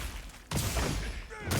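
Hammer basic combo strikes in the Monster Hunter Wilds video game: heavy impact thuds land in a quick burst at about half a second and again near the end, loud and close over a busy in-game background.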